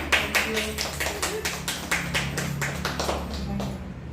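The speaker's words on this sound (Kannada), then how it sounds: "ಲತಾ ಮೇಡಮ್ ಅವರಿಗೆ ಇನ್ನೊಂದ್ಸರಿ ಜೋರಾದ ಚಪ್ಪಾಳೆ ಬರಲಿ" Applause at a women's day celebration of the Shree Chakra Spiritual Science Academy: a steady, rhythmic round of clapping from a small crowd, moderately loud and fading slightly toward the end, with voices underneath.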